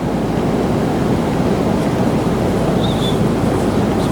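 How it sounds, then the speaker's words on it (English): Rushing whitewater of Split Rock Rapids on a Boundary Waters river, a steady broadband roar of churning water heard continuously and fairly close, with no voices. "That's Split Rock Rapids."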